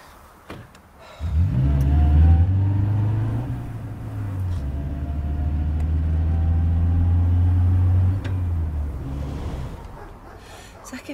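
A car engine starts with a clunk and then pulls away, its low rumble swelling, holding steady for several seconds, then easing off as the car moves on, with a few brief clicks and voices underneath.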